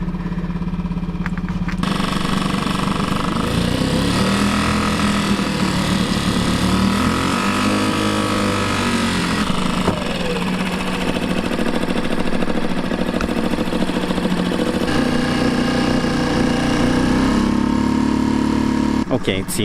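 A sailboat's internal combustion motor runs steadily and loudly after starting, warming up with a droning, slightly wavering pitch that holds throughout.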